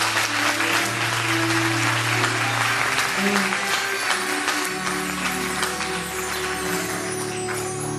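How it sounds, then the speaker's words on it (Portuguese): Congregation applauding in church, sustained hearty clapping from many people over held keyboard chords, loud and continuous throughout. "Você pode aplaudir ao Senhor mais uma vez, aleluia."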